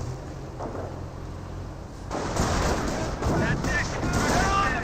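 An artillery barrage in the Company of Heroes game, with distant rumbling booms that build into heavier crashing blasts and dense battle noise, while a voice talks over it.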